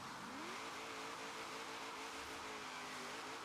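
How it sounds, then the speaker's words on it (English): A car brake-drifting close to a wall, its engine holding a steady droning note with broadband tire hiss and a rising pitch sweep at the start, continuous and fairly loud throughout. "I'm using a bit of braking drifting to extend how wide it goes."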